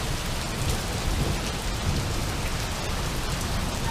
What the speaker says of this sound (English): pouring down pretty good